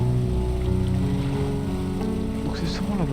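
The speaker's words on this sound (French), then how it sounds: "on va aller tester déjà le nouveau moteur" A new boat engine chugs steadily in the fishing game Dredge, a continuous low droning hum with rough rumble, close and unbroken, with faint splashy noise on top.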